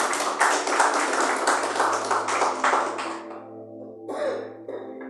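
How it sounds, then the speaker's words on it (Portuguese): A church congregation claps together in a loud, dense burst of applause lasting about three seconds before fading out. A sustained organ or keyboard note holds underneath. "Palmas para Jesus."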